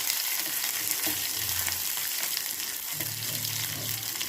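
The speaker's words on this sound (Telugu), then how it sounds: "ఇప్పుడు నూనె కాగింది, ఆవాలు వేస్తున్నాను, ఉల్లిపాయలు వేస్తున్నాను," Mustard seeds and onions fry in hot oil with a steady, close crackling sizzle that runs throughout, broken by a few soft stirring scrapes.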